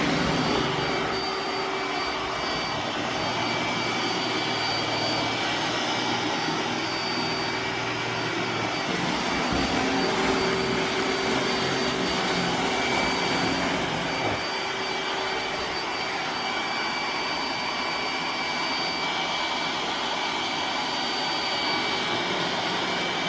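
iRobot Roomba s9+ robot vacuum running on hard floors, a loud, steady high-pitched whine and whir that continues unbroken and close throughout.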